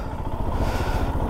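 A motorcycle engine running low and rough while the bike crosses water on a muddy mountain track in Pin Valley, a steady close rumble with some clattering, no voices.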